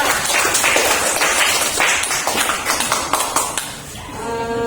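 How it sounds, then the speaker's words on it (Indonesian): A classroom full of students clapping together, dense and steady, fading out after a few seconds into a faint ringing tone. "tepuk tangan untuk kelompok 4"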